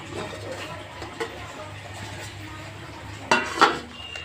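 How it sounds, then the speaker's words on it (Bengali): A metal pot lid is lifted off a cooking pan of fig curry, giving two close, sharp clanks near the end after a quiet stretch of faint kitchen background. "দেখি ঢাকনাটা খুলে"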